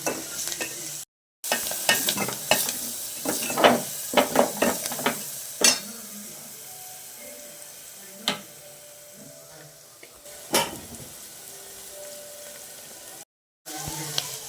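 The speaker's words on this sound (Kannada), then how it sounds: "ಚೆನ್ನಾಗಿ ಆಯಿಲ್ ಬಿಡೋ ಗಂಟ ಫ್ರೈ ಮಾಡ್ಕೊಳ್ಳಿ." A ground paste of cumin, pepper and garlic fries in oil for a pepper rasam, giving a continuous sizzle broken by repeated scraping stirs and sharp spoon clicks against the pan, close and fairly loud.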